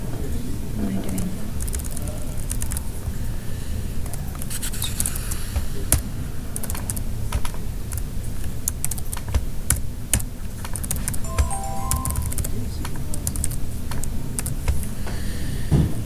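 Rapid, close clicking of a computer keyboard runs throughout a coding session, with uneven bursts of keystrokes and occasional harder taps under ongoing talk.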